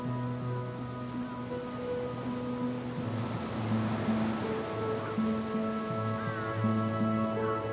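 Ocean waves wash steadily at a shoreline in a continuous soft surf rush, accompanied throughout by sustained tonal background music.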